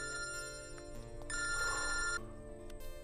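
An electronic telephone bell rings in steady repeated bursts, moderately loud and close, with a longer stronger ring in the middle and no talk over it.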